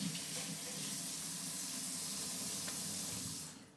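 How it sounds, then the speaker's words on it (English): Tap water runs steadily into a sink while a hand is rinsed under it during seasoning of a whole alligator for smoking, a close, continuous hiss with no talking. "Rinse my hand off."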